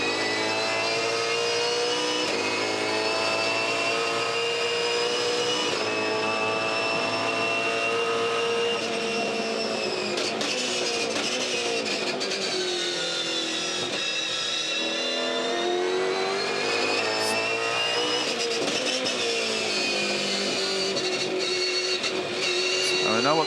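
V8 Supercars race car engines at the Sandown 500 endurance race, loud sustained high-revving drone with gear changes and shifting pitch, a motorsport commentator talking over it throughout.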